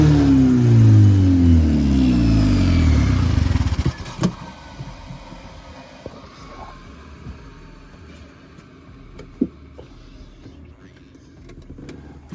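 A Honda engine swapped into a Toyota MR2 starts up and revs hard, with rising and falling engine tones, then cuts off abruptly. Scattered clicks and mechanical clunks follow in the quiet, and people talk nearby.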